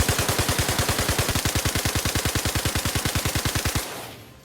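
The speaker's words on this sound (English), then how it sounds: "Let's try out the rifle by pressing 2 and then pressing the left mouse button." Rifle fired in the Star Citizen video game: a loud, fast, evenly spaced stream of automatic shots lasting nearly four seconds, then an abrupt stop and a fading tail.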